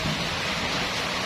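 Sudden rain pouring down steadily on a goat farm, a dense continuous hiss with no voices.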